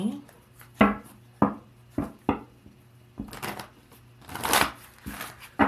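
Tarot cards are shuffled and pulled nearby as a series of sharp slaps and riffling bursts, with a longer flurry of shuffling toward the end, under occasional talk.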